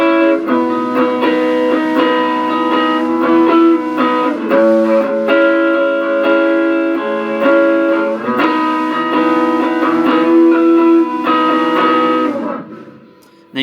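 An electric guitar plays a riff with a distorted, effected tone, loud and sustained with repeating chord hits, then fades to stop near the end.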